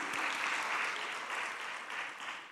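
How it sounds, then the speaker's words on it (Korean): A church congregation at a Korean Sunday worship service claps together in steady, dense applause that continues throughout at a moderate distance. "은혜이신 하나님께 영광의 박수 올리겠습니다."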